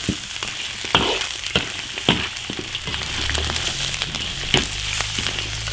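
Goose pieces stir-fried in an iron wok over a wood-fired earthen stove, with a steady loud sizzle broken by sharp, irregular scrapes and clanks of a spatula against the metal.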